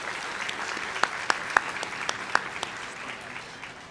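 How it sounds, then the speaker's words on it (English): Applause from an audience at a sports awards ceremony, a fairly quiet, loose patter of claps with a few sharper, closer claps standing out, fading gradually over about four seconds. "let's give her a big round of applause"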